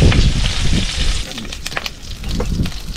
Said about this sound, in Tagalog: Prituhin na natin yung pork